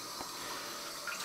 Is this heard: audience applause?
no